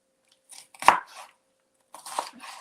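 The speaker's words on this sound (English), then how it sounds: "Same thing, rough chop." Two short bursts of a knife rough-chopping vegetables on a cutting board, separated by a brief pause, close and crisp in an otherwise quiet room.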